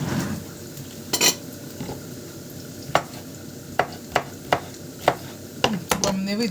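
A spatula scrapes and taps against a frying pan in short, irregular clinks over a low background hiss, fairly quiet.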